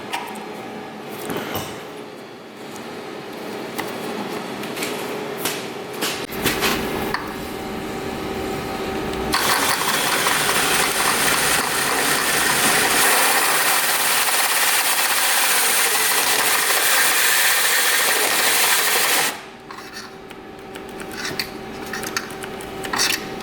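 A power drill grinds and whines through car body metal in long bursts, drilling 1/2-inch holes, loudest in a sustained stretch midway, with clanks and scraping around it.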